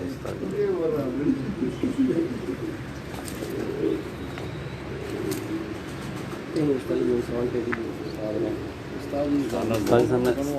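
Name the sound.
Teddy pigeons cooing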